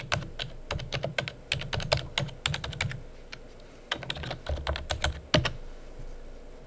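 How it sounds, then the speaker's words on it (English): IP address being typed on a computer keyboard: quick bursts of crisp key clicks in uneven rhythm, with a short pause midway, close and moderately quiet. "I'll just type in the IP address of my TMON into my web browser."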